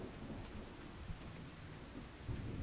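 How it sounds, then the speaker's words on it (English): Rain and low rumbling thunder in the Farming Simulator 25 video game, a steady wash of rainfall with deep rolling thunder swelling near the end, fairly faint and without speech. "I do like the rain in this game."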